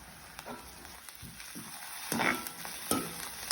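Dried chillies and fennel seeds sautéing in a pan, a faint soft sizzle broken by a few brief stirring scrapes and taps, close but quiet and without talk.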